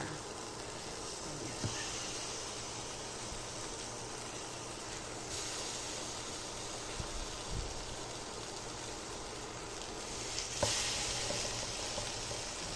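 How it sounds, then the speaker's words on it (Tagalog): Tofu cut into blocks fries in a pan in a home kitchen, giving a faint, steady sizzle and crackle with a few soft clinks against a quiet background. "sa pagpriprito po ng tokwa, nakaugalian ko po siya na iprito siya ng ganyan, bloke-bloke."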